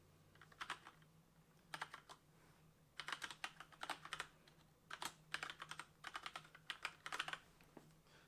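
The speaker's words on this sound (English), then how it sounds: "Type in the email address." Fingers type an email address on a computer keyboard in quick, irregular bursts of close key clicks with short pauses between them.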